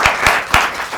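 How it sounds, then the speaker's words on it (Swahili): Studio audience clapping in bursts of applause, several sharp peaks of hand claps close together over about a second, moderately loud with no talking. "Pigieni makofi tena mazi."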